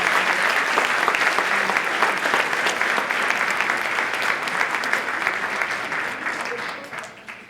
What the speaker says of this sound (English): Please join me in applauding these outstanding student artists and the teacher